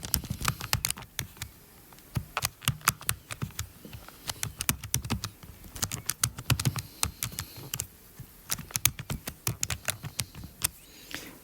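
Rapid, irregular clicking of calculator keys being pressed, close and crisp, in quick runs with short pauses, alone with no talk.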